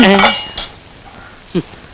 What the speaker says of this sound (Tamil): நான் பாத்திரம் தானே தேய்க்கிறேன்